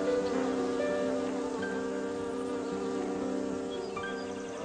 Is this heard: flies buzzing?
yes